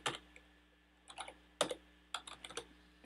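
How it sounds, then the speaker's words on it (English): Several short bursts of keystrokes on a computer keyboard while a processor name is entered into a board selector for an STM32F429 development board, with quiet pauses between the clusters of clicks and no voices. "I'm going to type in my processor"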